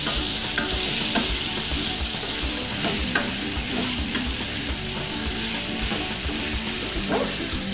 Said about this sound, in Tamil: எண்ணெயிலேயே வதங்கணும். ஒரு 2 நிமிஷம் இந்த மாதிரி நம்ம வதக்கிக்கலாம்.